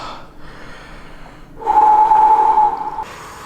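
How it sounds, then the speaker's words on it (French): Heavy, forceful breathing from someone sitting in an ice bath during a Wim Hof method test, with a long loud exhale or snort-like blast in the middle between quieter breaths, close and without talk. "On va essayer de respirer tranquillement."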